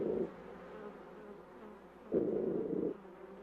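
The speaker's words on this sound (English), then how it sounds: "As the bees crowd around, they sense with their antennae the scout's movements." Honeybees crowd around at the hive, making a steady low droning buzz close by, swelling louder twice in short bursts over the constant hum.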